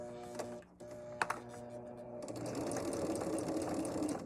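A sewing machine stitches a quarter-inch seam on a flower-block table runner, starting with a few short bursts and then settling into a steady, fairly quiet mechanical whirring run.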